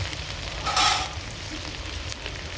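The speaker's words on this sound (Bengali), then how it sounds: "আলু পেঁয়াজ আমার হালকা করে ভাজা হয়ে গেছে এবার একে একে আমি সব মশলাগুলো দেবো" Potatoes and onions fry in a pan with spices, giving a steady close sizzle with a brief louder burst of crackle partway through; no one talks.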